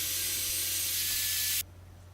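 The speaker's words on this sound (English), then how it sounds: "And I'm sanding it down." A power sander hisses and whirs steadily for a moment on wood, then stops abruptly, leaving a faint hum.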